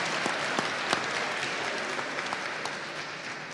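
An audience at a public civic dialogue event applauds teachers, giving a fairly quiet, even wash of many hands clapping that holds steady for a few seconds with no talking over it.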